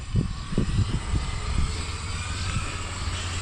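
An RC car running a Leopard 530kV electric motor on 16S LiPo, set up with high rally suspension, gives a few quick throttle bursts, then settles into a steady, moderately loud whine.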